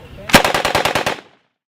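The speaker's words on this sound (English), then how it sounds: "It was a fully automatic open bolt submachine gun" A WWII fully automatic open-bolt submachine gun fires one rapid burst of roughly nine closely spaced shots at a re-enactment, loud and near, ending in a brief decaying echo.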